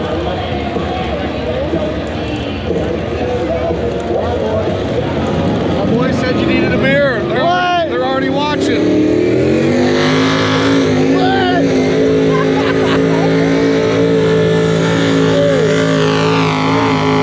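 Engine roaring at a harvest festival tractor pull, a loud sustained rumble that climbs in pitch while an announcer talks over it on a PA.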